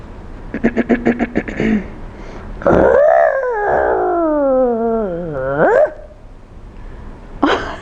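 Children's voices imitate a lion's roar together during a storytime, a long loud wavering howl-like roar lasting about three seconds after a short burst of rhythmic chanting, then a brief voice at the end.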